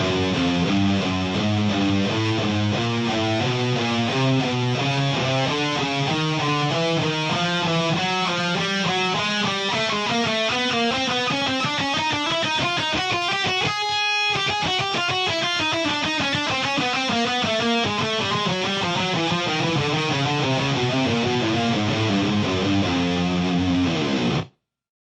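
An electric guitar, played with distortion, runs a fast chromatic picking exercise across the neck in a steady stream of even notes that climb and then descend, loud and continuous, with no talking.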